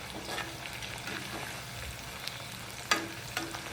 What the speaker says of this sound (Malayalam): പച്ചമുളക് വേപ്പല കടുക് ഉലുവ ഇതിട്ട് വറുത്തെടുക്കും